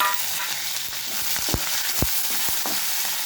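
Green chilies and curry leaves sizzle in hot oil, a close steady frying hiss broken by several sharp pops and spits.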